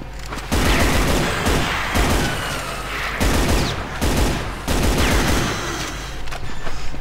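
Dense, loud gunfire from the video game Brutal Doom (SIGIL episode on GZDoom) runs almost without a break: sustained rapid bursts with heavy booming hits, pausing only briefly between volleys.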